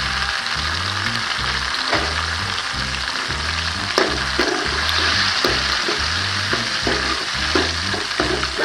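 Tomatoes sautéing in hot oil in a pan for kovakkai kulambu give a steady, loud sizzle, with a dense frying hiss throughout and repeated rhythmic stirring scrapes on top, close up and with no voices.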